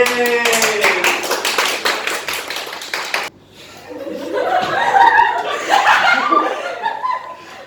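A classroom of Year 11 students claps in a quick burst of dense applause at a public speaking workshop, then breaks into chuckles and laughter with voices chattering afterward.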